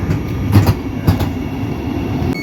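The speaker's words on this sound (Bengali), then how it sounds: "আর কয়েক সেকেন্ডের ভিতরে কিন্তু ট্রেন প্রবেশ করছে স্টেশনে।" Vande Bharat express train pulling into Kamakhya Junction station, a steady low rumble of wheels and carriages with a few louder rhythmic clacks over rail joints, close by and without voices.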